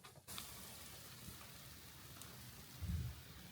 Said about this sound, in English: When you run up these stairs afterwards, there's like a rain noise.